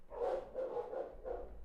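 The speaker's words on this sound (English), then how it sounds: "the dogs are going crazy" Several dogs bark in a short run of four barks, muffled and moderately distant, with no talk over them.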